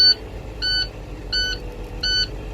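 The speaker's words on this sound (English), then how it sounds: "when you hear those alarms go off, that means that we have enough air" A truck's loud electronic low air pressure alarm beeps four times in an even rhythm over the low idle of the truck engine.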